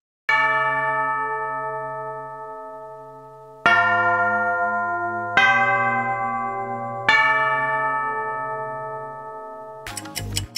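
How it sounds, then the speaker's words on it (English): Church-bell chimes voicing a monster in My Singing Monsters, four loud ringing strikes each decaying slowly with long tails, followed by a brief burst of mixed musical sound at the end. "It's the sound of church bells"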